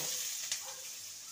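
Thin strips of potato sizzle steadily in hot oil, a close, continuous frying hiss with a small crackle partway through.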